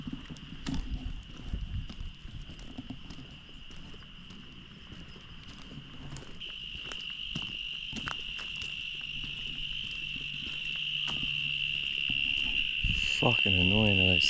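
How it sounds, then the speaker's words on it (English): Cicadas and frogs call at night in an outdoor setting, a steady high insect drone that swells louder toward the end over scattered low croaks, rustles and occasional thumps nearby. "Fucking annoying, those cicadas and frogs and shit."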